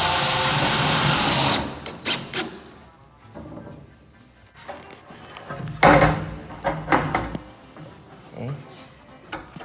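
A power drill runs briefly at the start, driving simple drywall screws into a large bookshelf under construction, followed by quieter handling knocks, clatter and people talking.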